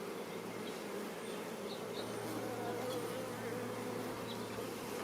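Honeybees buzz steadily in an opened hive during a late first hive inspection, a continuous close drone with a faint hum underneath and no talk.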